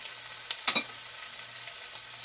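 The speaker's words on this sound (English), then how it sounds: "I'm going to add the shrimp in there and just saute those a little bit" Shrimp sautéing with translucent onions in a pan for a shrimp and cheesy grits casserole, a soft close sizzle with a couple of brief stirring clatters, no speech.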